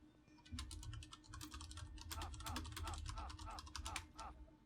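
Rapid typing on a computer keyboard, close and crisp, with a dense run of clicky keystrokes over a low steady hum for several seconds.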